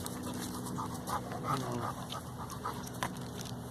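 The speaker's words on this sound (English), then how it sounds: "There's the dog. Enjoying his walk." A dog pants steadily on a walk through a park, with rapid breaths close by over a bed of outdoor background noise.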